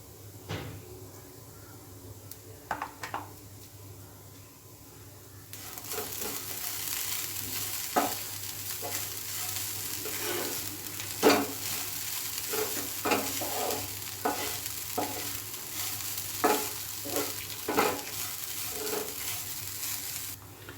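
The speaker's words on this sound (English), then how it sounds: "we have to saute this for 2 to 3 minutes" Coconut rice ingredients are sautéed in a pan, with a soft steady sizzle and repeated spoon scrapes and clinks from stirring at an uneven rhythm. The sizzle starts faintly and grows fuller after the first few seconds.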